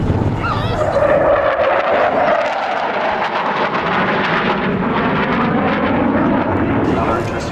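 An F-111C jet flies past at an air show display, a loud, steady roar that holds for several seconds without letting up. A voice talks over it.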